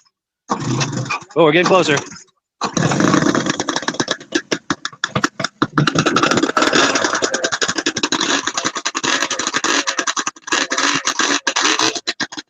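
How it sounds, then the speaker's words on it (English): A vintage snowmobile engine with stinger exhaust pipes starts after a short sputtering attempt, then settles into a loud, close, crackling run with rapid popping pulses; a person speaks briefly near the start. "I like how those stinger pipes make that crackling sound"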